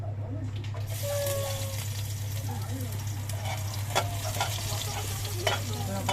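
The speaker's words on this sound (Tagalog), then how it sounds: "Gigisa po natin yung bawang." Garlic sautéing in a pan for Filipino chicken tinola, a steady sizzle with stirring scrapes and a few clinks, mid-distance under a low constant hum, with faint background voices.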